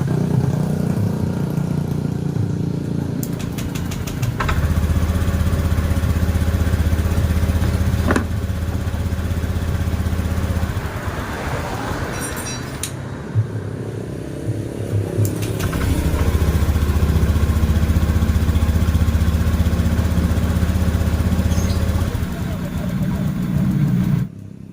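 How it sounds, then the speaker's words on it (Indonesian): Honda Scoopy ESP gen3 automatic scooter engine, just fitted with a new injector, running close by at a steady idle with a low rough drone, a brief throttle change and clicks midway, then settling back to idle. "ini setelah injektornya sudah terpasang, kita coba motornya nyalakan."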